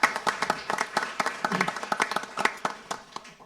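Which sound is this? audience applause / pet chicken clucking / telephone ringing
audience applause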